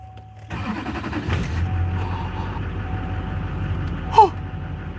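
A 2003 Chevrolet Silverado engine cranks and catches, then settles into a steady idle heard up close inside the truck, with a short sharp sound near the end.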